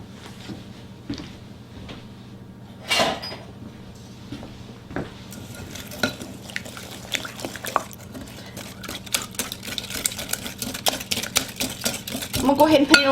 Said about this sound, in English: I'm going to take a wire whisk and mix this together well